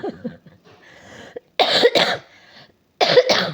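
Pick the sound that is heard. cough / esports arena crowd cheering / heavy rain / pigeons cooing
cough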